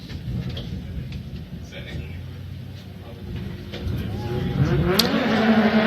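Nissan Silvia S15 drift car leaving the start line at a Formula Drift qualifying event in Orlando, engine rising in pitch as it revs and accelerates away, heard under an announcer's commentary and crowd ambience.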